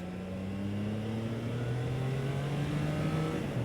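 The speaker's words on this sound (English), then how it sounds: "The engine on this is very smooth." A Triumph Trident demo motorcycle's engine hums smoothly while riding, a steady, low tone rising gradually in pitch as it pulls, fairly faint beneath wind, with no talk.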